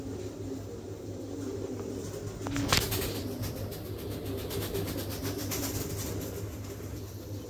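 King pigeons coo softly amid a constant low hum and ambient noise, with a brief clatter partway through; no one speaks.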